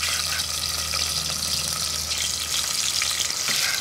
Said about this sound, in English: As soon as you've got onions frying, you've got a delicious smell